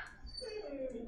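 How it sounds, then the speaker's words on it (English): A dog whimpers indoors with soft, rising whines, faint and close, under low background noise. "my dog's about to start barking."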